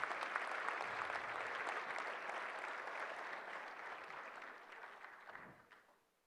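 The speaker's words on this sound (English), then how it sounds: "Round of applause." A banquet crowd at a hockey awards dinner breaks into sustained applause that fades out near the end, many hands clapping in a large room, fairly faint.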